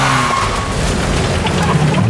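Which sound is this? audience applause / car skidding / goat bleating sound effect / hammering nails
car skidding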